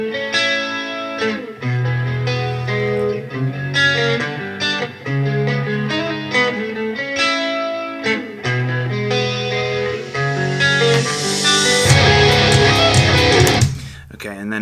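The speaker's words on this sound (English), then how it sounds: "a guitar underneath that's adding sort of a chorus effect to the beginning" Clean electric guitar playing a melodic part with a second, chorus-effected guitar layered underneath, notes ringing in a steady rhythm before swelling into a louder, brighter wash near the end.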